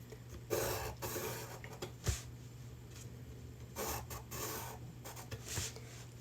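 A pencil draws cut lines across paper in a series of close, soft scratchy strokes, some longer sweeps and some short, with quiet pauses and a faint background hum.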